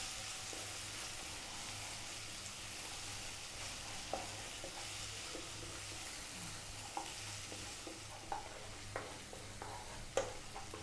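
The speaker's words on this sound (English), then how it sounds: "So the onions are cooking really nicely." Onions with a 50-50 garlic and ginger paste cook gently over low heat, giving a soft, steady sizzle with occasional small pops and light stirring clicks throughout.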